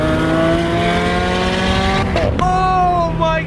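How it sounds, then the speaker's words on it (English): A Lamborghini Aventador supercar drives at night, its engine a loud, steady, close drone that briefly shifts pitch midway as it changes gear and then revs on, with no talk. "You already know we got the Aventador next to us."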